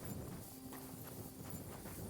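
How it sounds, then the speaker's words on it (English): Horse hooves clip-clop faintly in the medieval video game Kingdom Come: Deliverance 2, a soft, distant and steady walking rhythm half buried under ambient game noise. "I was hearing a horse, by the way."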